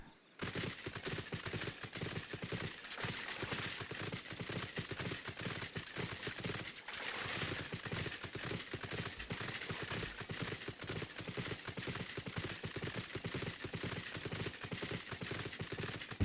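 Video game horse galloping at speed through a side-quest world, a fast steady clatter of hoofbeats running continuously and loud, mixed with busy game sound effects.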